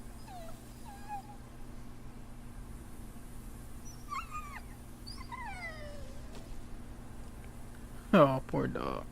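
A dog in the video game The Walking Dead: Final Season gives several high, wavering whimpers and whines in short bursts over a quiet background. Near the end, a louder yelp or cry breaks through.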